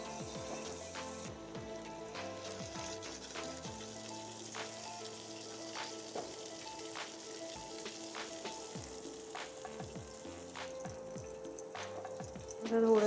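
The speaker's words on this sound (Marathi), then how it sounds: "शिजलेले आपले राजमा ॲड करूयात आणि याला व्यवस्थित मसाल्यामध्ये फ्राय करूयात. नंतर गरम पाणी ॲड करायचं" Rajma frying in a spiced masala with hot water added, giving a steady close sizzle with bubbling and occasional clinks of utensils throughout, swelling louder at the very end.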